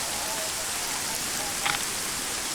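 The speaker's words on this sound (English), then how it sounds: "Even when it's raining, it's quite beautiful." Rain in the Arma 3 video game, a dense continuous hiss of falling drops at a steady loud level throughout, with a brief brighter tap near the end and no voices.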